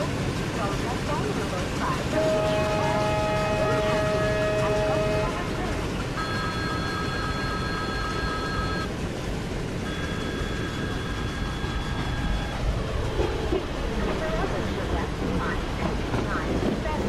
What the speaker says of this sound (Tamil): So our train just departed from this stop, Konkan route